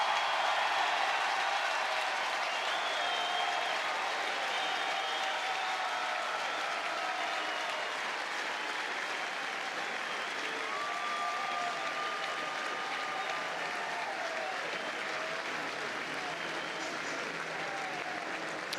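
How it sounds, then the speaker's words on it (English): A stadium crowd at Sewell Thomas Stadium gives a sustained ovation as a player walks off the field during an Alabama versus St. John's NCAA baseball super regional game, with steady, dense applause and cheering that holds at full volume throughout. "This ovation when he walks off the field as Alabama makes the official change."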